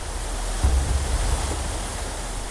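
Water rushing at high velocity through a narrow channel, a loud continuous roaring wash with deep rumbling surges throughout.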